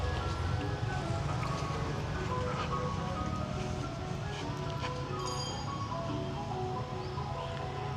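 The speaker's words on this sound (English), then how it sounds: "If not, they need to have that sound for an ice cream truck here." Street in Siem Reap, Cambodia, where a jingly, tinkling electronic tune plays continuously, like an ice cream truck melody, over a steady background of traffic and street noise.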